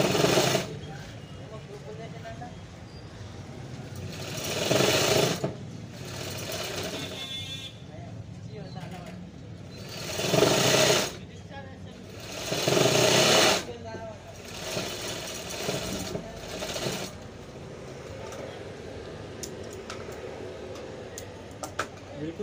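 A sewing machine stitches a one-inch folded seam on a pant, running in several loud bursts with pauses between them, while a voice talks throughout.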